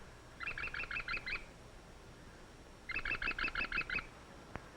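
A sparrowhawk nestling in Kentucky calls in two quick bursts of about six shrill, evenly spaced notes each, separated by a short silence, fairly faint against a quiet background.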